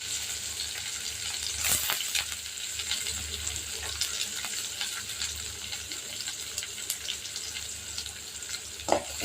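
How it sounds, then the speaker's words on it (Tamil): Chopped onion and curry leaves fry in a pan with oil, a steady close sizzle and crackle that runs without a break, with a few sharper scraping taps from stirring. "இது நல்லா பொன்னிறமாக இந்த வெங்காயம் வதக்கணும் ஃப்ரெண்ட்ஸ்."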